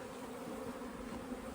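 Honey bees swarm around their hives in cold weather of about 4 degrees, a continuous low, close, even buzz of many insects with no break, faint and alone.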